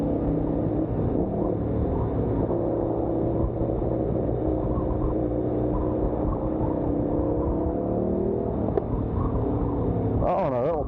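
An Indian motorcycle engine runs steadily for about eleven seconds, a deep, even rumble with a throaty idle, and the revs briefly rise near the end.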